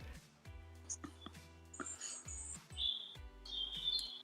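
Birds chirp and tweet outdoors, with short high calls scattered across the moment and a few brighter trills near the end, mixed with low rumbling background noise and possible voices.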